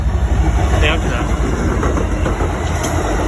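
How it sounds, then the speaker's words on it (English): A smaller train rolls past on the tracks nearby, giving a steady loud rumble and rattle while someone talks over it. "oh, this is a smaller train right here"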